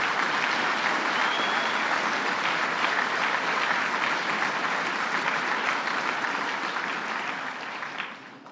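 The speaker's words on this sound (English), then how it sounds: "Give them a round of applause." A crowd at a Syracuse business-expansion announcement by the New York governor gives a sustained round of applause, dense and even for several seconds before tapering off at the end, with no talking over it.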